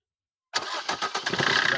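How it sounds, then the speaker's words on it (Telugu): A Maruti Suzuki Brezza automatic car starts up after a half-second of silence, its engine turning over and settling into a steady nearby idle, with voices faintly mixed in. "ఇంజిన్ కూడా స్టార్ట్ చేసి చూస్తాం ఎలా ఉందనేది"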